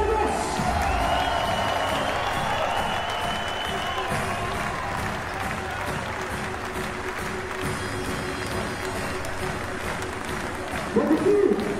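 A basketball arena crowd at a FIBA Europe Cup game applauds and cheers the winning home team, a sustained roar of clapping and whoops under a public-address announcer's voice.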